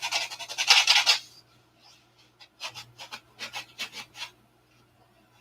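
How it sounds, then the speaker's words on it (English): Hand sanding of a wooden aircraft wing, starting with a loud, dense stretch of rubbing and rasping, then a pause, then a run of short, evenly spaced scraping strokes close by. "So now we'll sand this a little bit and get a little close."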